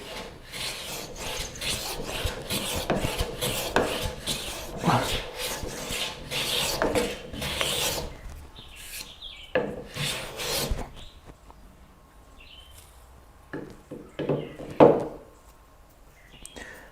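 Rhythmic rasping strokes of a Rali 220 Evolution hand plane shaving wood, fast and steady at first, then sparser and quieter with pauses.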